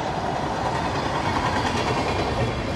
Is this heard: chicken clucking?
no